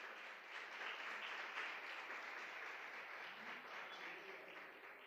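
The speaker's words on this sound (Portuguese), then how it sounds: "Você pode aplaudir o Senhor nesta manhã," A congregation applauds during a church service, a steady wash of many hands clapping that stays fairly faint and even throughout, with no voices over it.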